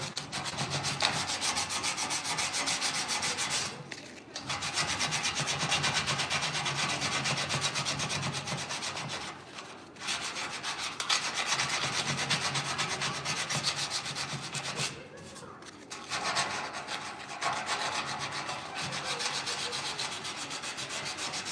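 Someone sands the grill shell of a 1968 C10 pickup with long continuous rubbing strokes, broken by three short pauses. The sound is steady and close, with no talk.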